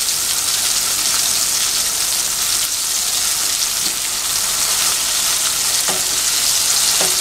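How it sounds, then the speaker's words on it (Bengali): Eggplant slices fry in a shallow layer of oil while being stirred, a steady dense sizzle with occasional scraping of the spatula, close and continuous throughout. "দেখো আমি অনাব্রত কিন্তু নেড়ে চেড়ে বেগুনগুলোকে ভেজে নিচ্ছি"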